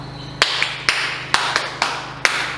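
Children in a classroom reading lesson clap their hands in unison, six sharp claps in an uneven rhythm with short pauses between them, close and clear over a quiet background.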